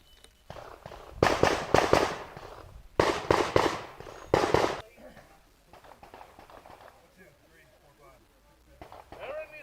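Handgun shots crack out in three quick strings at an IPSC World Shoot handgun stage, each burst loud and sharp, followed by quieter ambient range noise.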